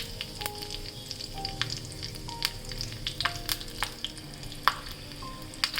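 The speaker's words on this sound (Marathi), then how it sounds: "या तेलामध्ये ना थोडंसं जिरे घालते आणि हिरवी मिरची" Cumin seeds and green chillies crackle in hot oil as a tadka for chutney, a moderate steady sizzle dotted with sharp pops and small spoon clicks.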